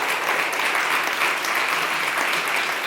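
A room full of people at an aviation event applauds photographer and plane spotter Jorge Guardia, the clapping loud, dense and steady from start to finish.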